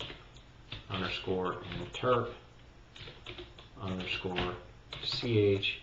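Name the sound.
typing a command on a computer keyboard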